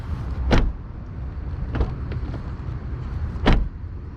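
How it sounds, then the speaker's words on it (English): A car door shuts with a sharp, close thump, followed by two lighter knocks and then another solid slam about three seconds later, over quiet background. "we also want to check to make sure the door closed properly"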